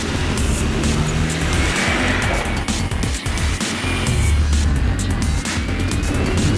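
A big Land Rover Defender rumbling loudly and continuously along a rough off-road track, engine drone steady with the grind and clatter of terrain close by.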